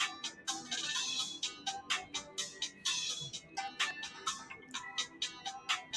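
A phone ringtone plays during a live stock and Dogecoin day-trading stream, a busy repeating electronic melody of bright, clipped notes, close and fairly loud, with no talking over it.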